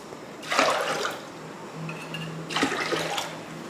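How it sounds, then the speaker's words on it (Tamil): Water poured into a pot for cooking rice, two separate splashing pours with a pause between, close and fairly quiet, with a low hum underneath. "தண்ணி ஊற்றிடலாம்"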